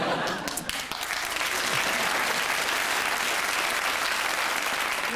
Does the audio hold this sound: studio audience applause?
yes